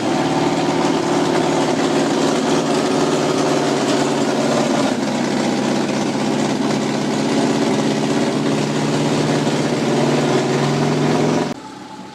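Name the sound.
Subaru engine idling in van conversion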